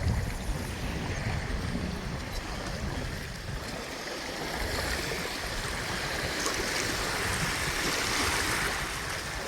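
The Little Cranberry River near Lake Superior flows with a steady, broad rush of water, softly continuous and fairly distant, with a faint breezy hiss and no voices.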